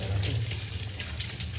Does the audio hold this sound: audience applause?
no